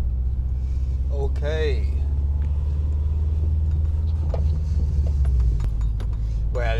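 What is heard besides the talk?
Subaru Forester XT driving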